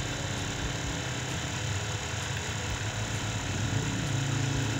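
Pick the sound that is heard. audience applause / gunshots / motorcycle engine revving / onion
motorcycle engine revving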